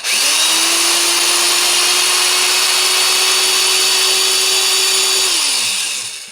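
An old 1970s-style electric drill bores into rusted jaw holes on a Wilton Bullet vise, a loud steady motor whine that spins up quickly, holds constant for several seconds, then winds down, close and alone.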